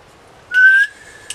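A man whistles a single short rising note, clear and close, lasting about a third of a second before fading, with a faint quick chirp after it.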